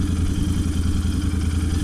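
A Royal Enfield 650 Interceptor twin-cylinder motorcycle, fully run-in, idles nearby with a loud, steady low-pitched engine thrum and fast even pulsing, and no voices over it.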